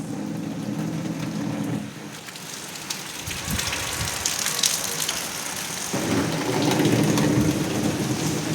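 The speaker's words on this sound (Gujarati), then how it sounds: "બહુ જ વરસાદ પડે છે" Heavy monsoon rain falling outdoors near waterlogged ground and mud, a steady broadband hiss that swells louder toward the end, with a brief low rumble in the middle and no voices.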